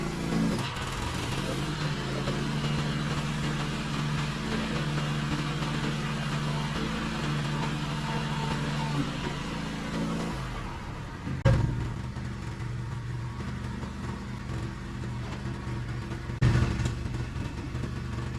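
A lawn equipment engine runs close by with a steady mid-pitched drone for about ten seconds as its throttle is tested, then drops off, leaving quieter idling broken by two brief knocks.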